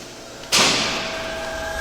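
An admissions door at a school opens or shuts with one sharp swish and clunk, followed by a slowly fading rumble and no talking.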